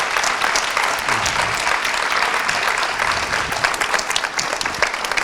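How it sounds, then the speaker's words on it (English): Sustained applause from the audience at a space university innovation panel, many hands clapping in a continuous dense roar that holds steady for over five seconds. "We'd like to give our panelists one more round of applause"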